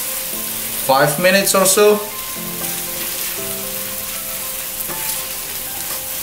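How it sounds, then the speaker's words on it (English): Spicy corned beef stir-frying in a pan gives a steady, close sizzle throughout, with a brief spoken remark early on. "we're gonna cook this until it became fragrant"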